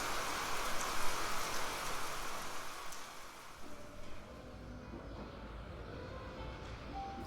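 Steady rain falls as a soft, even hiss of drops on surfaces, fairly faint and continuous, with no voices over it.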